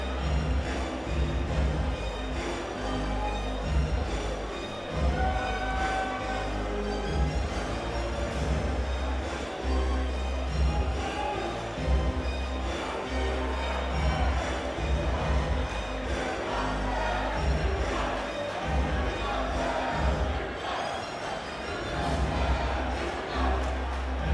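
An arena crowd at a Cage Titans mixed martial arts event cheers loudly for a young fighter, a dense, continuous roar that holds for the whole stretch, with commentators talking over it.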